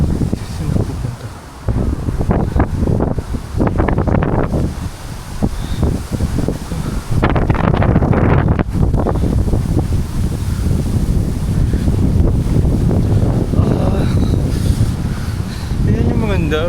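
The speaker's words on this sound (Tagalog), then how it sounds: "Ayan yung maganda. Mahangin." Strong wind buffets the microphone outdoors in Osaka, roaring loudly and almost continuously with gusty swells, and a voice is briefly heard beneath it.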